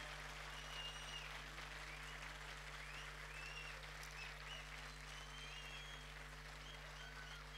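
An audience at a youth conference applauds in steady, continuous clapping that sounds somewhat distant and fairly faint.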